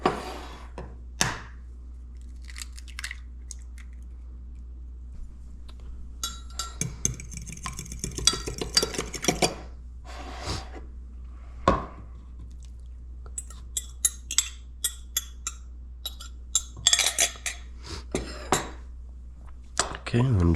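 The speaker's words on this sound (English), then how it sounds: "Okay, I'm just gonna mix everything." Pancake batter ingredients, including melted butter and an egg, whisked in a bowl with a flimsy whisk, a close, irregular clatter and scraping against the bowl in quick bursts, with quiet gaps and some murmured talk.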